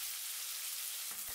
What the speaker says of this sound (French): Quand l'huile est chaude, je mets les cubes de tofu